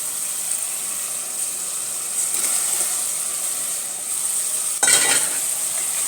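About ten medium-sized prawns fry in oil in a pan, making a steady, fairly loud hiss. A brief clatter of utensil against pan comes near the end, and no one speaks.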